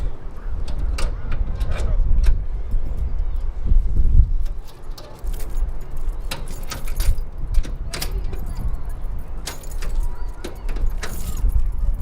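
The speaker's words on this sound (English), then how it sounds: "Take the lock off, and you open it up right here, and you'll have keys." Metal keys jangle and clink close by with scattered sharp rattles, over a steady low rumble of background noise.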